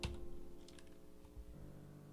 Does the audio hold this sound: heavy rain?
no